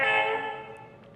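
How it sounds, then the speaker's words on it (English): An ESU model locomotive horn gives one short toot that starts loud and fades over about a second, alone with no talk. "We can hit the horn."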